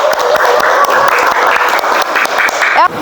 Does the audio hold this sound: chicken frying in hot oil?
no